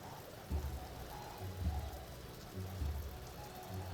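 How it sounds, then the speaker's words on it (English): Hail pelting down in a Stonehearth hailstorm, a soft continuous patter with periodic low thumping bursts, faint and steady throughout. "we've got a hailstorm right now"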